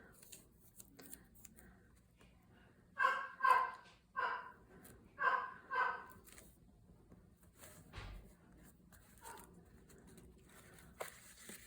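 A dog barks in short bursts of two or three sharp yaps, muffled and somewhat distant, with quiet gaps and faint indoor rustling between them.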